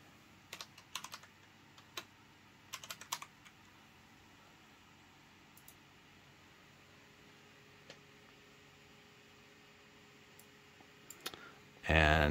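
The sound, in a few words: computer clicking and typing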